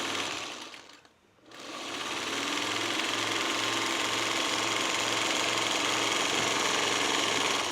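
A sewing machine stitches a curtain panel, running with a steady rhythmic mechanical whir and a regular thumping pulse after a brief pause at the start.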